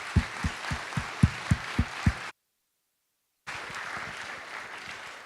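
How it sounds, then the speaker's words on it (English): Applause at a liberal arts conference: several distinct, spaced hand claps open the clip, then a gap of silence, followed by a softer wash of scattered audience clapping. "Let's give Adam a big round of applause"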